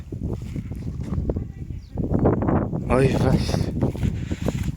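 Gusty wind buffets the microphone in low rumbling waves while a person speaks briefly over it.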